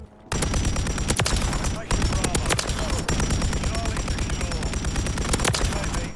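Polemiot gun firing in the Modern Warfare III beta shooter game: rapid, heavy booming shots in quick bursts with short gaps, loud and close, layered over in-game chatter and background battle noise.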